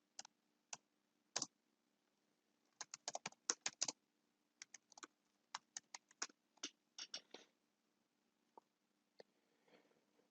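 Keystrokes on a computer keyboard as a dashboard title is typed, in quick irregular bursts of close, crisp clicks separated by short pauses, in a quiet room with no talk.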